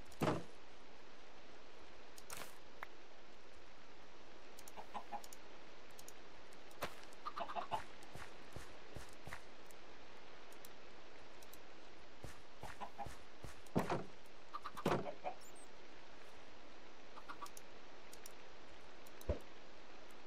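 Minecraft chickens clucking, a few short, soft bursts of clucks spread across a mostly quiet stretch with some small clicks and knocks in between.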